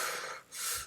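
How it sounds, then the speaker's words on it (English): Chest breathing demonstrated by a vocal coach teaching metal screaming technique: a short, breathy inhale-exhale pair, airy and close, with a brief dip between the two rushes of air. "You can breathe through your chest, which is like a,"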